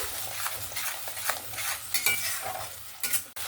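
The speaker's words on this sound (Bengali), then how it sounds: "এখানে টমেটো পেঁয়াজটাকেও ভালোভাবে কষিয়ে নিয়েছি এবং তেল ছাড়া শুরু করে দিয়েছে" Tomato and onion paste sautéing in oil for a chicken kofta curry, with a spoon scraping and stirring the pan in repeated strokes over a soft, steady sizzle, close and without talk.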